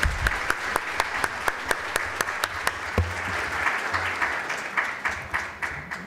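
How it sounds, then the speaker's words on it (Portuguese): Audience applause for Amanda after her poster presentation at a morning scientific poster session, a steady crowd clapping with several sharp, distinct claps standing out, fairly close and continuous for about six seconds. "umas palmas aqui para a Amanda"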